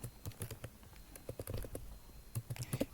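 Fingers tap out a business name on a computer keyboard in quick, uneven bursts of crisp clicks, a short pause in the middle, close and fairly quiet with no talk over it.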